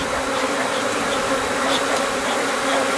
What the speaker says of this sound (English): Just make sure to be very careful about stray bees.